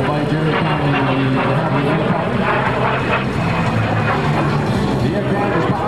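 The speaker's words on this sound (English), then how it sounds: "On your right, ladies and gentlemen, the high-speed pass." De Havilland Vampire DH-115 jet roars past in a high-speed pass at an airshow, a loud, steady, broadband rush that holds throughout with a crowd announcer talking over it.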